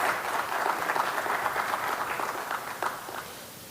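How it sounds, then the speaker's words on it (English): Audience applause at a school district State of our Schools address, a steady wash of many hands clapping throughout, fairly even and moderately loud with no talk over it. "Please give Dr. Gould a round of applause."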